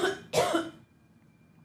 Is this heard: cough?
yes